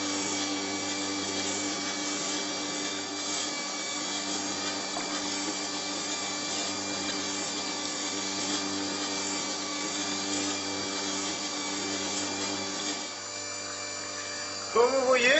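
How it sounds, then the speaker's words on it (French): A wood chisel is held and rocked across a rotating sharpening stone, giving a steady, loud motor hum with a continuous grinding rub that shifts briefly near the end. "je fais vaciller mon ciseau sur toute la largeur de la pierre"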